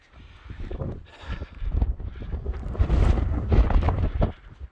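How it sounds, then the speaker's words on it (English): Gusty wind on a wintry Lake District fell buffets the microphone with deep rumbling roars that swell and ease in strong gusts. "Ooh, a bit gusty."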